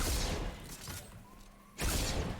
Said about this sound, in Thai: มีคนยิงฮะ